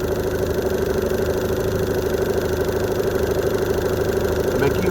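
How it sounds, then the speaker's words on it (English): A 2017 Evinrude E-TEC 15hp H.O. outboard engine running warm at a steady idle, a continuous close mechanical drone with a fast rhythmic pulse, loud and alone with no talk. "I've been running this engine for a while."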